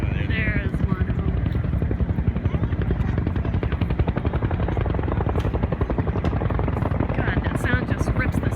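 Military aircraft roaring overhead at the Dayton air show, a loud, continuous pulsing engine drone that fills the sky, with brief spectator voices faintly mixed in.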